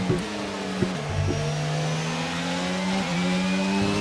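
A Honda-powered Formula 1 car in the F1 22 video game, its engine screaming at high revs with rising and falling pitch through gear shifts, steady and loud, with no voices.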